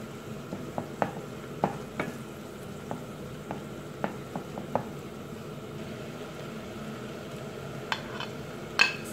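Minced meat and eggs fry in a pan for anda qeema, a low steady sizzle broken by repeated sharp clicks and scrapes of a spoon stirring against the pan.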